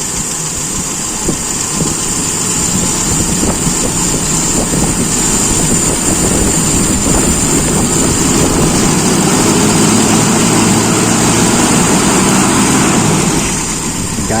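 Motorcycle engine with a carburetor under a straight-throttle test, running loud and close with a steady rough idle broken by several quick revs and rising bursts, no talk.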